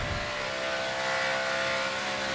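Engine of a Toyota Tundra NASCAR Camping World Truck Series race truck at Kansas, a steady loud onboard drone held on throttle with slight pedal modulation throughout, no talk.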